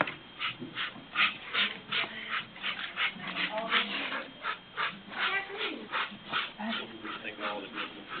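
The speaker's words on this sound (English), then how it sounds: "He's a very good dog," A police K-9 dog at a town board meeting whimpers and snuffles in short repeated bursts, heard beneath a room full of talk and shuffling.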